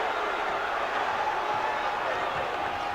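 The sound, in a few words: basketball crowd cheering at NC State game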